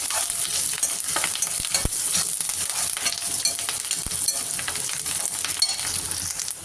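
Big onion and curry leaves frying in oil in a pan for paruppu urundai kulambu, producing a bright, constant crackling sizzle with light stirring clicks throughout.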